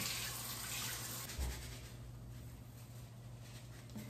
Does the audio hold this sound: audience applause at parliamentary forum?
no